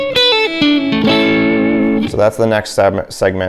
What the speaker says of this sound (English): I use octaves, but I sort of go up and down between the octaves by hybrid picking